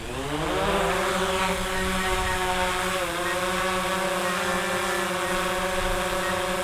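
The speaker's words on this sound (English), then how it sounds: "I'm going to hit takeoff on the controller, and it will hover in place." A DJI Mavic 2 Zoom drone lifts off and hovers nearby. Its propellers give a loud, continuous buzzing whine that climbs in pitch at takeoff, then holds steady in an even hover.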